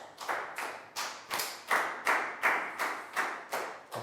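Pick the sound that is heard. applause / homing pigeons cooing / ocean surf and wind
applause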